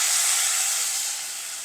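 Mustard seeds fried in oil for tempering go into a Sarvasugandhi chicken curry, giving a close, steady hiss of sizzling oil that stays loud and even, then eases slightly toward the end, with no talking.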